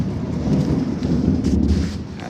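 Heavy rain pours outside as a dense, loud, continuous roar, with deep rumbling underneath that suggests thunder. No voices are heard over it.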